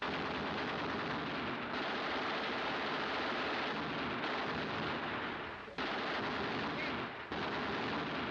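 Dense, continuous gunfire and battle din roar loudly throughout, with rapid bursts blending into a sustained wall of noise and brief dips near the end.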